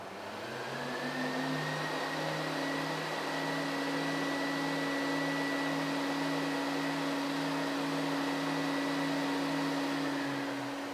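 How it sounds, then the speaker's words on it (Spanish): A steady, droning whine of many vacuum cleaner motors layered together, performing Wolf Vostell's Symphony for 40 vacuum cleaners, sustained and even for the whole stretch, with no voices. "la Sinfonía para 40 aspiradoras de Wolf Bostel"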